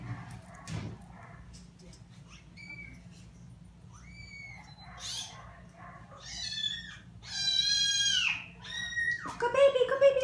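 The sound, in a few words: cat meowing during blood draw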